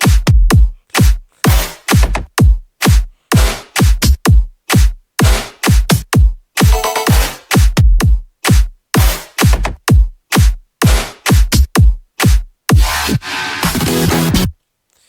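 Layered percussion samples with claps, stabs and a self-made synth fill in an electronic music production, loud and punchy with rapid repeated hits in a steady rhythm, one short noisy burst midway, no voices.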